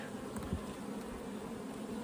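Honey bees buzz over hive frames in a bee yard, a dense, steady hum with no pauses, close and continuous.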